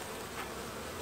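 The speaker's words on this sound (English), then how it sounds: "and there's some bees in here." Honey bees in an opened beehive make a dense, continuous buzzing hum that fills the air steadily at close range, with no talk over it.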